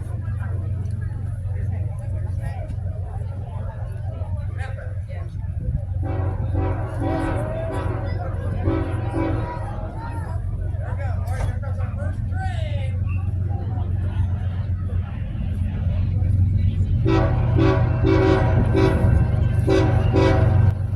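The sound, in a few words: freight train horn salute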